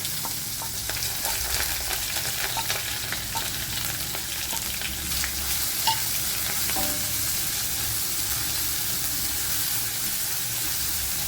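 Sliced onions fry in hot oil with garlic and curry leaves for a Tamil potato stir fry, a loud, continuous close sizzle with faint crackles and occasional stirring touches throughout.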